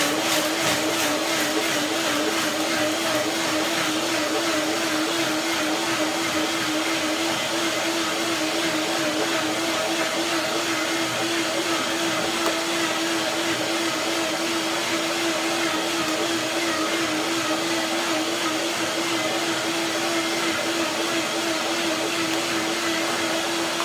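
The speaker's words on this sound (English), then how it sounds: "Blender dance." A blender whirs steadily, blending a creamy curry dressing made with turmeric for a romaine salad, a loud continuous motor drone with a faint wavering pitch throughout, no voices.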